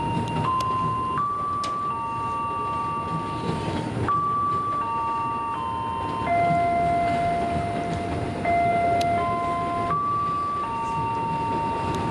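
A KRL commuter electric train near Manggarai runs as a loud, steady rumble, with sustained whining tones that step up and down in pitch across the whole stretch.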